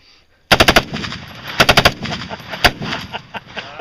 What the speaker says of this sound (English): 1 round only. 50 caliber Beowulf.